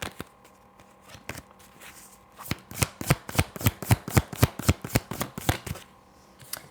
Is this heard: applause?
no